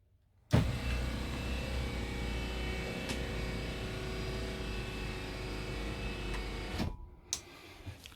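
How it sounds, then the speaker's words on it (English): Electric motor lowering the bed in a Forster 659HS rear-lounge motorhome, a steady mechanical whir running about six seconds at even loudness, then stopping abruptly, followed by a few faint clicks. "And now I'm going to bring the bed down."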